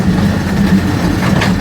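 A toy train at the Howrah Rail Museum rolls along with a steady, loud, close rumble of wheels on track.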